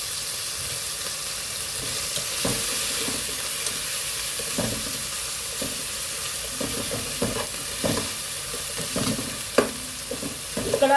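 Chicken frying in a pan sizzles steadily at close range, with repeated stirring clatters and scrapes scattered throughout.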